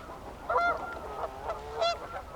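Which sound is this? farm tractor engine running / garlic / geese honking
geese honking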